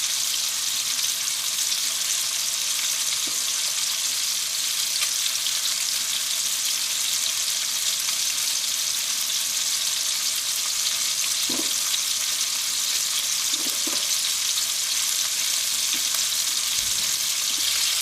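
Fish sizzling in hot oil in a home kitchen, a steady dense crackle that runs throughout at a close, even level, with a few faint clinks and no voices.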